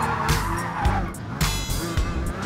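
Race car spinning out in Gran Turismo Sport after the clutch is released without matching revs, giving repeated bursts of engine roar and tire skid noise at close range over about two and a half seconds.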